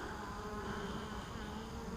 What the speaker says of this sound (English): Look at the bees.